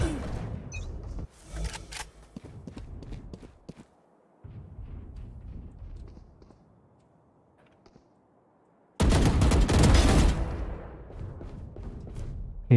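Gunfire in Valorant, bursts of sharp shots early on, a quieter stretch, then a loud dense burst of firing near the end.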